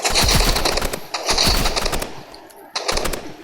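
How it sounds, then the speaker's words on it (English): An assault rifle in the video game Rivals fires loud, rapid automatic bursts, with a short pause between volleys, close and punchy. "Now it's the assault rifle time."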